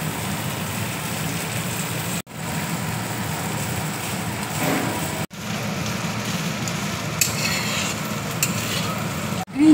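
Noodles added to a pan with capsicum and seasonings, stirred in a continuous sizzling, rain-like hiss with a few abrupt cuts.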